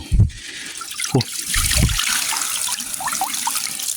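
Water flowing and splashing near a rocky stream where stone crabs live, heard up close as a steady rushing trickle with a few louder low splashes at the start.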